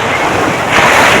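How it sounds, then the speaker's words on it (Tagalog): Strong surf crashing onto a sandy beach in Pangasinan, a continuous broadband wash with wind buffeting the microphone, swelling louder near the end of the short stretch. "Kasi lakas talaga ng alon niya"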